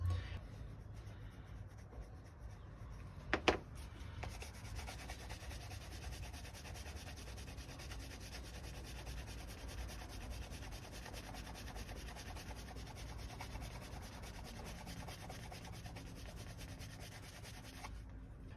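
Columbus wax being rubbed by hand along the edges of a minimalist leather wallet, a steady close, soft friction hiss running almost continuously with one brief sharper knock early on.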